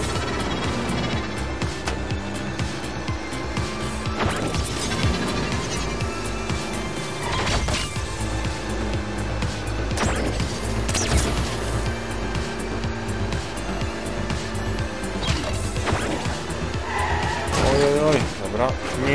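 A multi-car pile-up in the Electro Ride racing game: loud continuous engine roar with skidding, tire squeal and impact crashes, under someone speaking over the racing.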